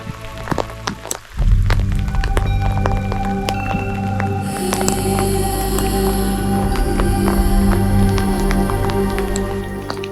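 Steady rain falls on a mountain trek to Tungnath and Chandrashila in Uttarakhand, a close, continuous patter that swells louder after the first second and holds alongside faint tonal sounds.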